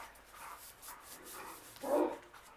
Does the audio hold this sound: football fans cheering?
no